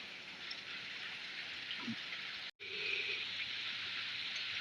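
Steady rain falls in a continuous soft hiss, fairly quiet and even throughout, with a brief dropout partway and a faint drip or trickle beneath it.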